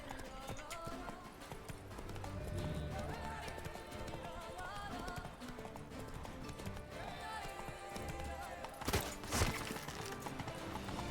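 Galloping horse hooves in The Witcher 3: Blood and Wine, a steady rapid clip-clop running under dense game music and combat effects, with a brief louder burst near the end.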